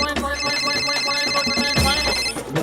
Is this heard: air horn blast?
no